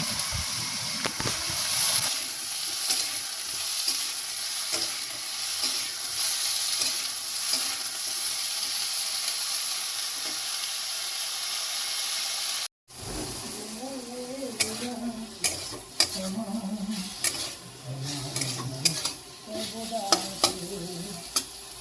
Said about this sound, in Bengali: ঝিঙেকে হালকা নাড়াচাড়া করে নিতে হবে, সামান্য তেল দিয়ে ভেজে নিতে হবে